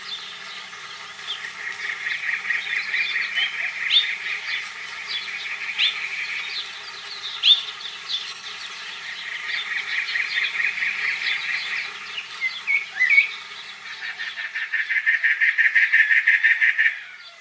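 A cactus wren, the Arizona state bird, calls in long runs of harsh, rapid, grating notes like a car engine that will not start, repeating in steady bursts close to the listener.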